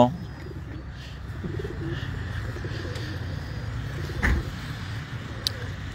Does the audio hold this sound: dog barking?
no